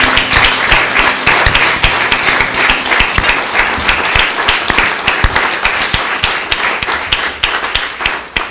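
An audience at a historical society gathering gives a sustained round of applause for two presenters, with dense, loud, close clapping that holds steady throughout and thins slightly near the end.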